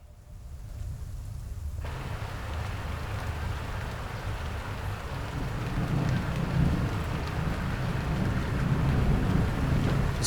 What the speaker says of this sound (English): I think there's some rain.